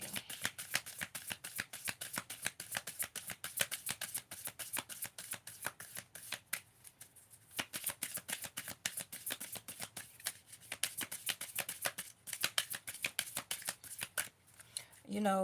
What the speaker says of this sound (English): Sorry if the shuffling is a little loud.